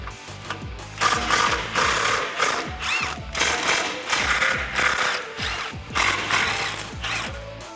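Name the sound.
ratchet with 15 mm socket removing bumper bolts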